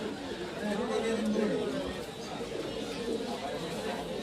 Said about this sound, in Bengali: খুব বিগ সাইজের একটি কবুতর আপনারা দেখতে পাচ্ছেন